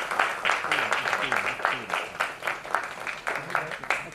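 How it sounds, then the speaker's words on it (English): Audience applause at the opening ceremony of a film festival, a steady spread of clapping with talk running over it throughout. "So can I have a big round of applause for her too?"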